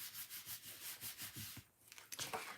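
Firm rhythmic rubbing across the back of a folded paper card, about a dozen quick even strokes followed by a few scuffs and light taps, close and fairly quiet.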